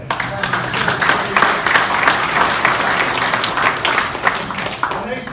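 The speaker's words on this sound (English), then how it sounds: "Round of applause for you." Lively crowd applause at a keynote talk in Birmingham, Alabama, loud close clapping that swells and fades over several seconds while voices murmur underneath.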